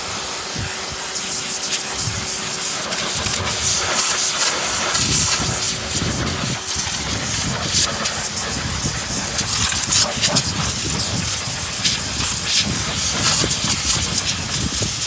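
A loud, steady high-pressure spray hisses against a truck wheel, stripping paint off the rim, with a constant rushing roar and shifting low rumble from the machine throughout.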